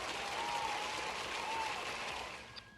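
Applause from a crowd of Buffalo Bills fans, a continuous wash of clapping that holds steady, then thins and fades near the end, with a faint voice underneath.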